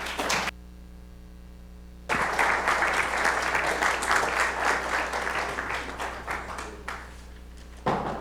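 Audience applause welcoming a lecturer at an institute lecture hall, steady dense clapping from a crowd that swells in after a brief pause and fades near the end.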